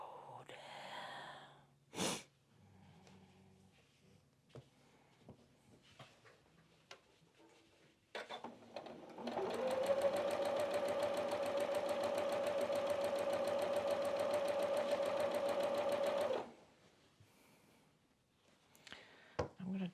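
A sewing machine stitches quilt pieces for a quilted snowman block, one steady run of fast, even stitching lasting about seven seconds, close and loud. Brief handling noises and soft clicks come before and after the run.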